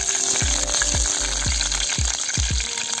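Green chillies fry in a little oil in a pan, giving a steady, close sizzle punctuated by a repeated series of six dull, evenly spaced knocks, like a utensil tapping, with no talking.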